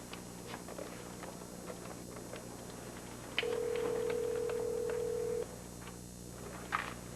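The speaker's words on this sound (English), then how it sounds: "You were just about to call Travis." Telephone call being placed in a 1983 soap-opera scene: scattered faint clicks and button taps, then a steady dial or ring tone for about two seconds, followed by one more brief tone, with no talking.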